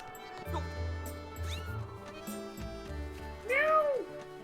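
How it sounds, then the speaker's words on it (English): A cat in a Legend of Zelda game meows a few times, with a clear rising-and-falling call near the end, over low background music and faint game sounds. "Come here, cat."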